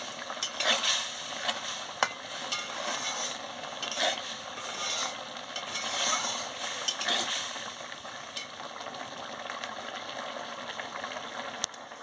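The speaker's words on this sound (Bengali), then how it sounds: "ভালো করে একটু নাড়িয়ে নিচ্ছি" A thick eggplant, potato and tomato curry being stirred in a pan, a continuous soft sizzle under repeated scraping strokes of a spatula, close by with no talking.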